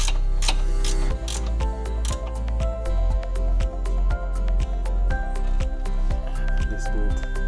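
A ratchet tightens a front sway bar bushing bolt on a Subaru BRZ tS, clicking in quick regular bursts, loud and close, with short pauses between strokes.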